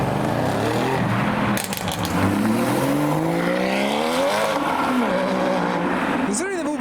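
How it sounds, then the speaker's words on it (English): Cars accelerating hard past a crowd at a busy car meet, engines rising in pitch with a brief tyre slip, loud and close amid chatter and background voices. "Like, that was a slip of the tyres, sir."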